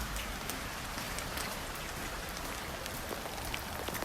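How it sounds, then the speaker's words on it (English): Heavy, hard rain falls outdoors while someone walks home, a loud, dense, unbroken hiss of drops on surfaces with no voices. "it's raining really bad,"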